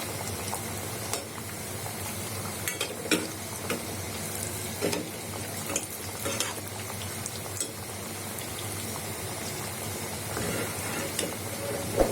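Puris fry in hot oil for pani puri, with oil spooned over them, giving a soft, steady sizzle and bubbling marked by a few light splashes and stirring sounds.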